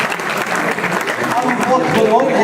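Applause from the audience at a club's New Year greetings event in France, a sustained ripple of clapping with a speaking voice running over it.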